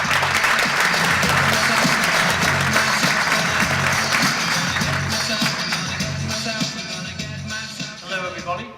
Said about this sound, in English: Everybody give a hand to Juan Benito with Joosy.